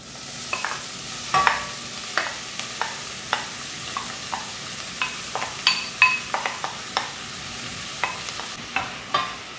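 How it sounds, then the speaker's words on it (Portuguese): Ground beef sautés with onion in a pan, a low continuous sizzle broken by many sharp spatula scrapes and taps at an irregular, busy rhythm, close and clear, with no voices. "eu já posso vir aqui com a carne para refogar"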